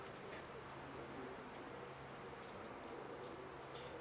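Pure Kake-breed pigeons kept by a fancier, giving faint, low, repeated cooing against a steady background hum, with scattered soft clicks and bird noises throughout.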